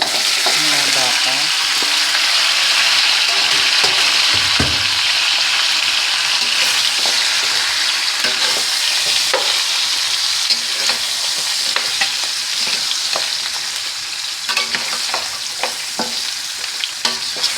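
Beef for caldereta frying and being stirred in a pan, a steady loud sizzle throughout with scraping clicks of the utensil against the metal, no voices.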